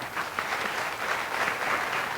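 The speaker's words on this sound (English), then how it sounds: "please give him another round of applause" An audience at a university math fair claps in steady, dense applause, moderately loud and continuous throughout, with no voices over it.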